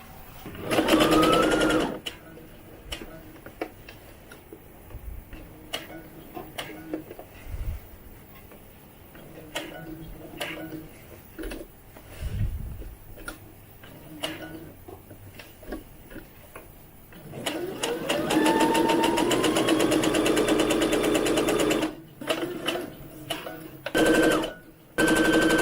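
A sewing machine stitches doll coat pieces for an American Girl doll, running in bursts of rapid mechanical ticking with pauses between seams, then a long steady run near the end.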